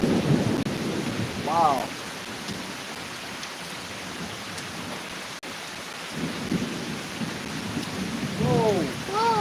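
A thunderstorm at night, with rain hissing steadily and low thunder rumbling in swells, loud and fairly near, while a person talks and exclaims in brief bursts over it.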